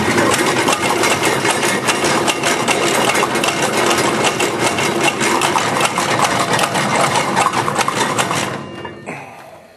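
A RO-TAP Model B testing sieve shaker runs with a loud, rapid, regular mechanical tapping and rattling, then winds down and stops near the end.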